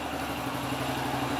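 A Kawasaki Ninja motorcycle engine idles close by with a steady, even, mid-pitched rumble and a light clatter. It stays constant throughout the short stretch.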